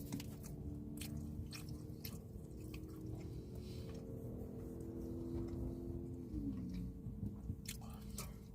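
Someone chewing a Philly or gyro sandwich from Miami Grill, with soft wet mouth sounds and bites that repeat steadily and close for the whole stretch.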